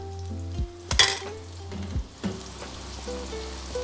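Lentils sautéing in a pot for Egyptian koshari give a steady sizzle with a sharp stirring burst early on, over soft background music.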